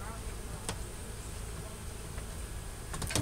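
Bees humming inside a hive within an attic, a steady close buzzing drone throughout with a few brief knocks and taps.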